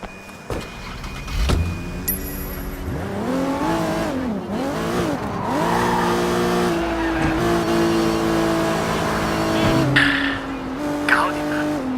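A car in the video game Sleeping Dogs drives and revs, its engine pitch rising and falling in repeated sweeps with brief tire noise, steady and close throughout.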